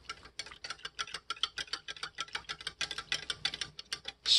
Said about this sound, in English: I use a little whisker and I just go like this